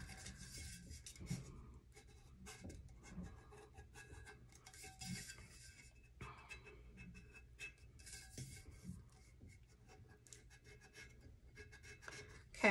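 Steady rasping and scraping as tape seams are rubbed down firmly on a sublimation tumbler, a close, quiet, continuous friction with brief pauses, no voices.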